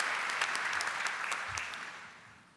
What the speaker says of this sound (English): can we give all the graduates an enormous round of applause